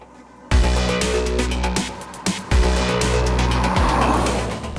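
A Maruti Vitara Brezza diesel engine revs loudly and close by, the pitch stepping up sharply twice before settling into a steady, strained drone.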